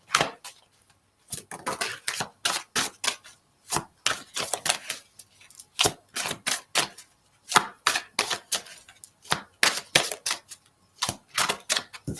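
A deck of cards is shuffled over and over, giving crisp, close slapping and riffling bursts in quick uneven runs with short pauses between, quiet and alone.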